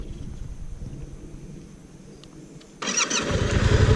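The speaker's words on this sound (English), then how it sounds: "I'll start the bike and I'll actually show you." A motorcycle engine cranks and catches, going from a low churning starter sound into a sudden louder running rumble that holds steady to the end.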